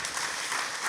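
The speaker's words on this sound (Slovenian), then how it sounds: "najprej mogoče en aplavz za Miha" A live audience at a podcast recording applauds the guest, a dense, even wash of many hands clapping close and continuous throughout, with no talking.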